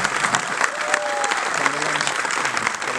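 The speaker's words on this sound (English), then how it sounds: "One big, huge round of applause." Loud, sustained applause from an audience at a Bhoomi film trailer launch, dense clapping continuing throughout with voices and a few shouts mixed in.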